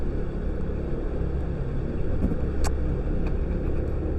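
A motorcycle with a rough-running, shaky engine on a work commute between Bogor and Sukabumi, giving a steady low rumble mixed with wind buffeting and no pauses.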